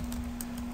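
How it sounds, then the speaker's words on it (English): A few quick keystrokes tap on a computer keyboard while typing into a Chrome browser's address bar, faint and close over a steady electrical hum. "I need to type in"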